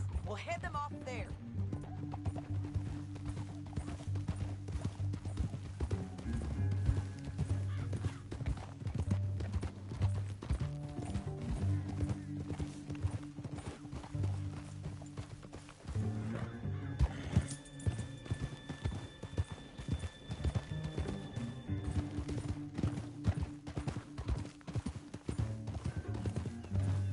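Horse hooves clip-clop in rapid galloping rhythm across open ground in Red Dead Redemption 2, a steady drumming under orchestral game music, with a whinny and voices talking along the way.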